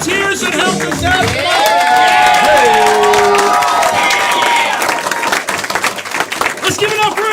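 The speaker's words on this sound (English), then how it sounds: "let's keep an applause going for all the volunteers that helped us out." A comedy show crowd claps and cheers loudly for the players and volunteers, with steady applause and whoops all the way through while an amplified host keeps talking over it.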